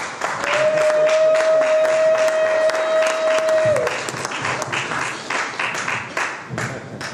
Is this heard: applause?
yes